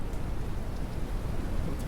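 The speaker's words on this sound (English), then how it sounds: "It's raining." Rain falling in the video game Deer Journey, a steady dense hiss of drops without pauses, fairly loud and alone.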